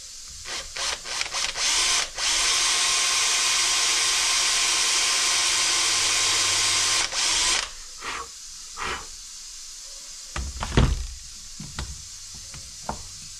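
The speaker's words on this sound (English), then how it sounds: "we'll try to drill this hole first anyway" An electric drill bores a hole into metal on a farm, a steady, loud whirring grind lasting about five seconds, bracketed by short clicks, knocks and handling clatter, with no talk.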